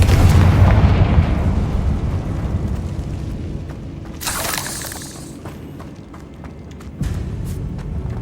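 Confringo blasting spell in Hogwarts Legacy: a heavy booming blast that rolls off into crackling debris, followed by a sharp bright burst and another thump a few seconds later.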